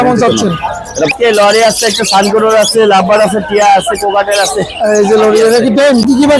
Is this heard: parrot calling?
yes